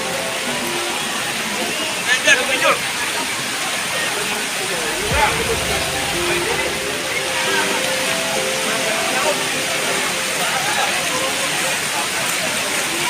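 Labasin waterfall at Villa Escudero roars as a steady, dense wash of falling water, loud and continuous throughout, with brief voices and a few knocks faintly above it.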